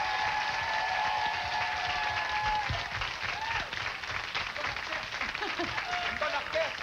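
Audience applause at a 1993 Christmas country music show, dense sustained clapping from a large crowd filling the whole stretch, fairly loud and even with no talk over it.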